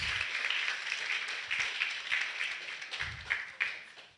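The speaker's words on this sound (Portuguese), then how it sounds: "Uma salva de palmas para ele" Scattered applause from a church conference crowd, rising and falling in bursts with light murmuring beneath.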